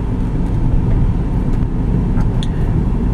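A 2008 Mercury Mariner Hybrid 4x4 SUV drives over hilly back streets, heard from inside as a steady, loud road and tire rumble with low engine hum and no talking.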